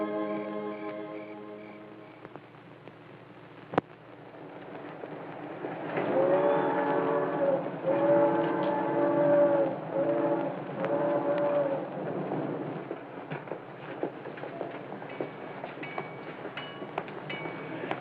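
A train pulls into a railroad station in an early-1950s setting, with a steady rumble and a loud horn blast sounding midway, then rolling carriage noise continuing.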